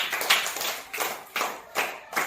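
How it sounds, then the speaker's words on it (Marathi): Schoolchildren in a third-grade village school class clap together in a few bursts of rhythmic group applause, the claps coming in even waves at moderate, slightly distant volume with no talk. "सर्वांनी टाळ्या वाजवा रे"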